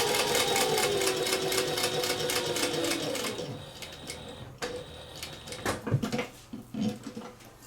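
A sewing machine stitches a cork envelope wallet in a steady rapid run, then slows to a few separate stitches and clicks near the pivot, close and fairly loud.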